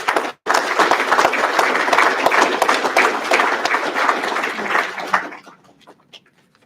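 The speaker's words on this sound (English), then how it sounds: "take a minute and thank your family for that support with a round of applause" Families of firefighters at a promotional ceremony give a round of applause, loud dense clapping from a crowd that starts after a brief gap, holds steady, then tapers off into a few scattered claps.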